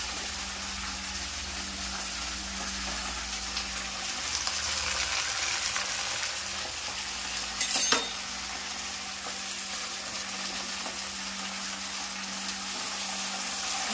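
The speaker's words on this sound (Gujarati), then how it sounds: "સરસ મજાનો ભાજીનો વઘાર થઈ જશે" Hot oil tempering for leafy greens sizzles steadily in a pan, a continuous close hiss with a brief louder crackle partway through.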